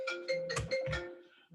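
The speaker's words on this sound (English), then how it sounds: "Oh, who didn't silence their phone?" An iPhone ringtone goes off during a live TV show, a bright tonal melody of about four repeated note bursts held over a steady underlying tone, fairly loud and close, with no talking.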